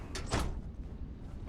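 A maintenance door beside a security gate in Starfield slides open with a quick mechanical whoosh and a couple of short hissing bursts, fairly close, then a low room ambience remains.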